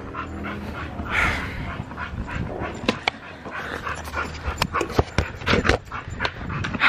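A dog pants rapidly and close by, with whimpers and short sharp sounds breaking through over about seven seconds of continuous breathing.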